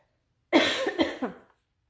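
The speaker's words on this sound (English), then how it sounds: "I've got to cough, excuse me." A short burst of coughing, three quick harsh coughs in a row, close and fairly loud, then silence.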